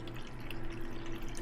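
Water poured into a yogurt maker, a short, steady trickle of liquid filling the container, moderately close and without talk.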